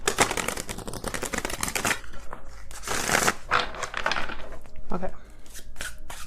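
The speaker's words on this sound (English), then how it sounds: "I feel like I need to shuffle this deck a little bit more. It's very like stiff because it's kind of new." A new, stiff tarot deck is shuffled up close, giving dense crackling riffles and flicks of card edges that run in bursts through the clip, with a brief spoken word near the start.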